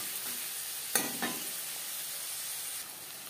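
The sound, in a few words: onions frying in a pan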